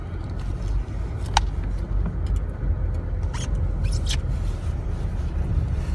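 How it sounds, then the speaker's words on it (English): A car rolls along a closed road after being shifted into drive, its low engine and tyre rumble steady and close throughout, with a few faint clicks and squeaks from inside the cabin. "So let me go ahead and put into drive here."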